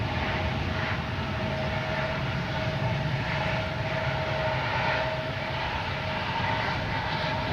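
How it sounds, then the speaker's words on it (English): A JetBlue Airbus A220 jet arriving at Boston Logan Airport on a Sunday: a steady, moderately distant engine roar holds evenly throughout with a faint tonal whine, and no talk. "I have a JetBlue A220 coming in from Wilmington, flight 1290"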